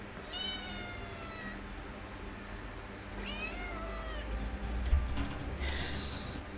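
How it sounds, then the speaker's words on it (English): Several meows from a household cat, close by and moderately loud, each with rising-and-falling tones, heard in short bursts over a low room hum with no talking. "Do you want to see the cat?"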